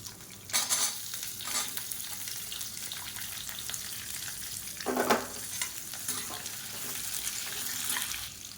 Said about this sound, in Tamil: அதில் மீடியம் சைஸாக பெரிய வெங்காயம் நீளமாக கட் பண்ணதை சேர்த்துக்கலாம்